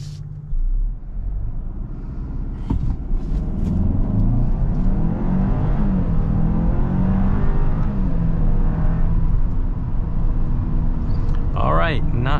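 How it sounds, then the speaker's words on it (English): A 2023 Hyundai Santa Fe SUV pulls away from a stop under hard throttle, its engine rising in a steady droning rumble heard from inside the cabin, with someone talking over it near the end. "we let go of the brake and see how quick this SUV"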